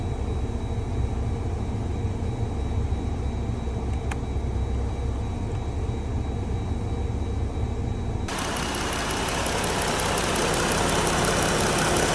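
Jeep Wrangler JL with a 3.6L Pentastar engine idling steadily, its radiator fan kicking in partway and adding a strong broadband whoosh that holds to the end, close and continuous with no talk.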